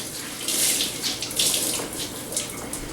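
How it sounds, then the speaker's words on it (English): Hot water runs from a tap onto a wet towel in a home kitchen, a steady close hiss of running water with surges as the flow hits the cloth, no talking. "I usually use hot water on it"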